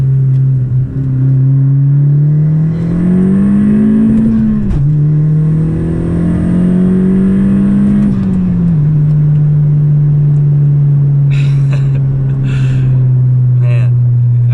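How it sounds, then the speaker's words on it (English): A turbocharged 1.5-litre 10th-generation track car making 295 horsepower, driven hard: a loud, steady engine drone whose pitch climbs under acceleration, dips briefly at shifts, then climbs again, with no talk over it. "let me show you what this turbo can do"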